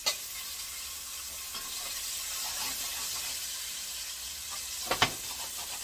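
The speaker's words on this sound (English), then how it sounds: "I'm gonna fry the peppers. Those are like the sweet peppers." Okra and sweet peppers fry in a pan, a steady close hiss and sizzle with occasional stirring scrapes and a couple of brief clatters near the end.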